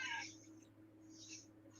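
A house cat lets out a short, high meow right at the start, fairly faint over a steady low hum, then only background noise follows.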